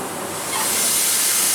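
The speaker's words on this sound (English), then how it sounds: "this train is coming alive" Steady broadband hiss of steam rising in strength as a steam locomotive comes alive, a continuous rushing sound heard alone with no talking.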